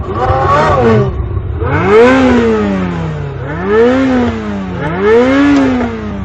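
A Ferrari engine revving hard several times in a row, each rev climbing to a loud howl and then falling back, close by and with no talking.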